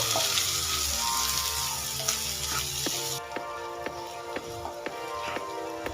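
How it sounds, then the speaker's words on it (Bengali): Onion and capsicum frying in a pan over a medium gas flame, a bright continuous sizzle that later thins into a softer crackle with scattered sharp pops and light taps, close up with no voices. "দেখুন গ্যাসের ফ্লেমটা মিডিয়ামে রেখে দু তিন মিনিট ভেজে নিয়েছি"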